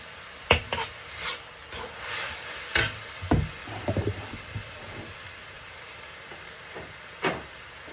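Vegetable curry with garlic-onion paste, chili and spices stirred in a pan, giving scattered scraping strokes and short hissing sizzles in uneven bursts, close and moderately quiet, with no voices.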